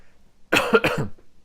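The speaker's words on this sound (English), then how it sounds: "excuse me for coughing" Two quick, harsh coughs close to the mic, one right after the other, with near silence before and after.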